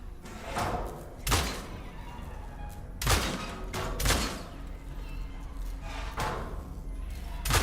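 Gunshots fired at a hinge in the horror game Cronos: The New Dawn, several heavy thumping blasts spaced a second or two apart, booming and reverberant over a constant low ambient rumble.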